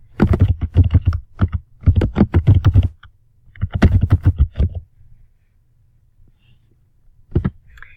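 Typing on a computer keyboard to enter a search subject: close, crisp clusters of keystrokes in three quick runs over several seconds, a pause, then a final pair of taps, with no talking.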